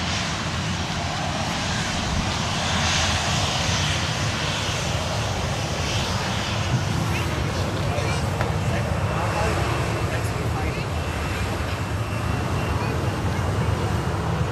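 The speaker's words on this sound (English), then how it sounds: "UPS has just taxied into view." A UPS cargo aircraft taxiing at Sydney Airport, its jet engines a steady, broad roar at moderate distance, constant throughout with faint voices in the background.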